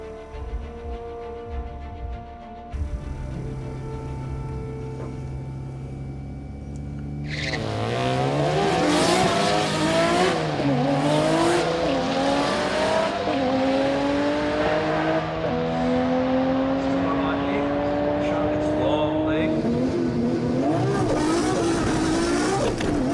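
Nissan Skyline GT-R cars race at a drag strip, twin turbo and single turbo builds, engines loud and revving hard through rising gear changes, with a quieter idle before a sudden surge of power that holds to the end.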